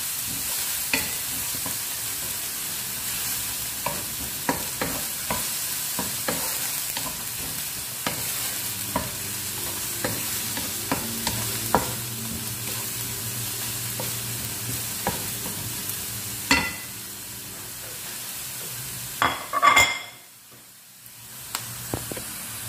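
Onions frying in a pan are stirred steadily, with a constant close sizzle punctuated by scraping clicks of the spoon and a louder hissing burst near the end.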